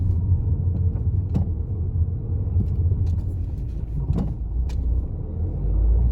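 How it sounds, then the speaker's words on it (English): On a suburban road in the Netherfield area, a bus approaches, its steady engine rumble filling the clip along with passing car noise and a few faint clicks and knocks from inside a moving vehicle. No one speaks. "There is a bus coming."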